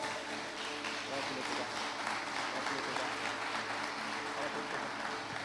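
A church congregation breaks into sustained applause, dense and loud, filling the room evenly from start to finish, with voices mixed in underneath.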